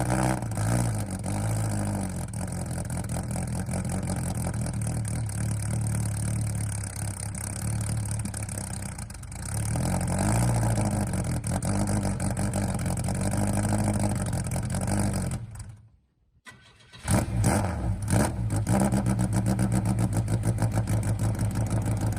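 An engine runs rich just after its first start, idling loudly and continuously with uneven revving, cutting out briefly near the end before catching again.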